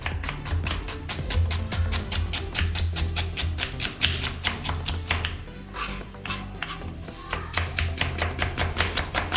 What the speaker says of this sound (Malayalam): അപ്പോൾ ആദ്യം നമുക്ക് ഉള്ളി ഒന്ന് കട്ട് ചെയ്തെടുക്കാം കേട്ടോ